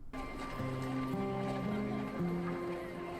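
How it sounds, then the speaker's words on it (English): A horse in a scene of the TV show Outlander, with clip-clopping hooves and faint snorting beneath a sustained musical score and speech. "What's with the horse?"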